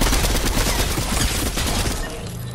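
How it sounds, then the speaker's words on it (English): Loud, sustained automatic gunfire from a Valorant match, a dense rapid stream of shots that tapers off near the end. "Let's shoot them."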